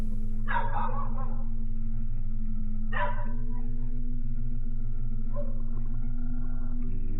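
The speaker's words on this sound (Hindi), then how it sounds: "अचानक वो दोनों दूर अंधेरे में किसी चीज को देखकर भौंकने लगते हैं।" Two dogs tied at a doorway bark at night, caught on a CCTV camera: a few short, scattered barks that sound somewhat distant over a constant electrical hum.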